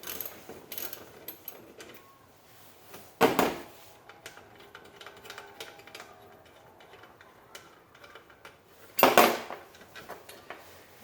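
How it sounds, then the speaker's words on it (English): Metallic clicks and two sharp ratcheting clanks as a wrench loosens the nut holding an edger blade, with quiet pauses between. "I'm going to loosen the nut"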